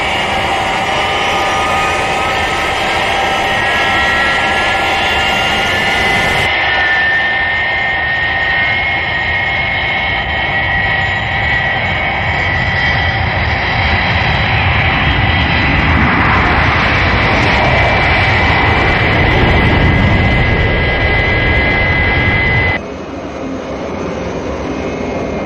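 A Fireflash jet aircraft breaks through the sound barrier in the Thunderbirds series, a loud, continuous roaring jet rush that swells and intensifies before easing off, with no voices.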